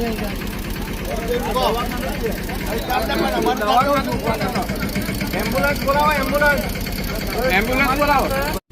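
A district official's car idles with a low, steady engine hum that runs under someone talking close by for the whole stretch.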